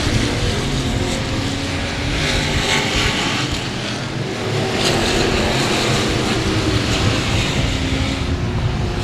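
Street stock race cars roar around an oval track, a dense, loud, continuous engine drone that swells and fades as cars pass, with no speech.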